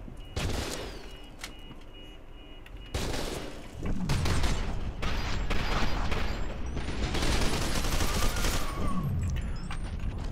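Bursts of rapid gunfire and booming shots from the shooter game F.E.A.R. 2 erupt in several loud volleys, broken by short pauses and mechanical weapon noises, with no talk over them.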